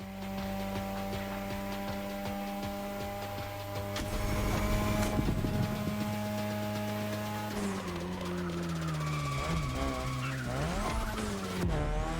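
A 2002 third-generation Mazda RX-7 with a rotary engine races in The Crew Motorfest, its buzzing engine loud and steady, with pitch rising and falling through gear shifts and some tire squeal.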